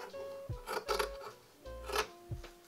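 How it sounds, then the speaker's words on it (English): Scissors snip through fabric to cut an armhole in a puff-sleeve dress, a few quiet crisp cuts in short bursts with brief rustling between them, close and soft. "And now I'm going to just cut an armhole right here."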